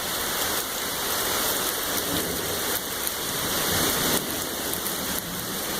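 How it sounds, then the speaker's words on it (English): Heavy rain pours steadily during a thunderstorm, a dense, loud hiss of water sheeting off nearby houses onto flooded ground, continuous throughout with a few brief surges and no voices. "There's like sheets of rain coming off these houses."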